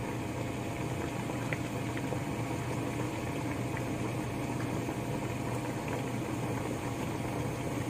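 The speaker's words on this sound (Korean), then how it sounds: "불 좀 세게 하고 부글부글 부글부글 끓여주세요" Kimchi stew with pork belly bubbles hard on high heat, a steady close boiling and gurgling that holds at an even level throughout.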